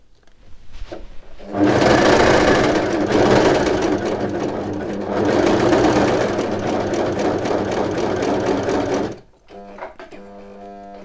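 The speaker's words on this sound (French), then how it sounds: "je vais continuer sur quelques centimètres après la première couture" A domestic sewing machine stitches a Burda 130 shirt, whirring loudly and continuously for several seconds in two long bursts, then stopping abruptly with quiet faint sounds after.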